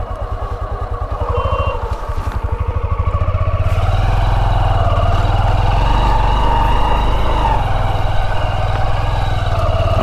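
A motorbike on a touring ride into the Mandarmani beach area near Digha, its engine running loud and steady with a low rhythmic drone that builds and then holds throughout.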